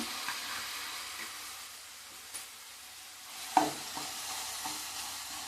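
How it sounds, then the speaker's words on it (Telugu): Ginger garlic paste frying in a pan for gongura chicken, giving a soft continuous sizzle with occasional light stirring clicks and one sharper scrape, fairly quiet and without speech. "పచ్చివాసన పోయే వరకు వేయించుకుందాం"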